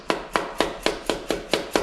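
A hammer taps a Chevy 350 engine part to break its seal: seven sharp, evenly spaced knocks about a quarter second apart, close and crisp, with no talking.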